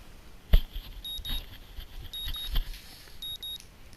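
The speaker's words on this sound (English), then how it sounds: "My morning alarm goes off" A morning alarm clock goes off in the visual novel Katawa Shoujo, a run of short electronic beeps in small repeating clusters over a low background hum, with a couple of soft thumps.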